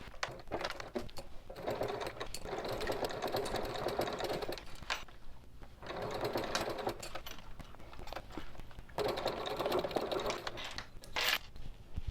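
Sewing machine stitching across a small zippered bag, rapid mechanical chattering in steady runs separated by short pauses, close and clear with no talking.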